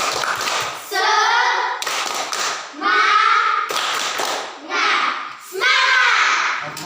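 A classroom of schoolchildren performs a rhythmic spirit clap, with loud bursts of clapping in a steady pattern and children's voices chanting along between and over the claps.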